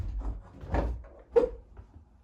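A wooden interior door lifted off its hinges, giving a soft scrape and bump followed by one sharp knock as it comes free, close and moderately loud, with no talking.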